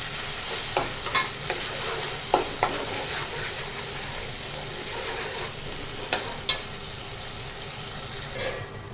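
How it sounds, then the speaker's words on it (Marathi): A small spoonful of garam masala frying in hot oil for a raw jackfruit bhaji with dry fish, sizzling steadily while a spoon scrapes and stirs the pan in irregular close strokes. "आता याच्यामध्ये आपण गरम मसाला घालून देऊ हे बघा एक चमचा घातलाय छोटा छान असं हे तेल सुटेपर्यंत भाजून घ्यायचा मसाला"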